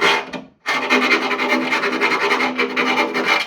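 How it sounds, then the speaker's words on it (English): A hand file rasps steadily back and forth in drilled holes of metal spot lamp brackets, deburring and elongating them; loud, close, continuous scraping after a brief pause at the start. "So I've just had the file in there."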